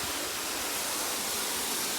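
Small waterfall in Bali rushing steadily, a dense broadband roar of falling water that stays constant and close with no other sounds.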